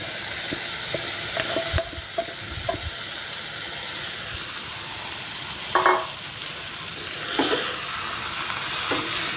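Sautéed vegetables for pav bhaji pulao hiss softly and steam in the pan while being stirred, with scattered utensil scrapes and clinks over a continuous low sizzle.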